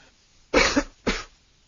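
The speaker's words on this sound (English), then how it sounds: "Excuse me for coughing." Two sharp coughs from one person, close and loud, spaced about half a second apart with quiet between them.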